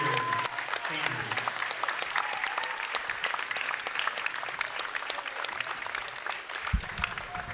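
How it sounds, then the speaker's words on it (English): Crowd at a high school basketball senior night applauding the graduating basketball players and cheerleaders, sustained dense clapping filling the gym, with a voice over the loudspeaker at the start. "One final round of applause for our 2026 Glasgow basketball and cheerleader seniors"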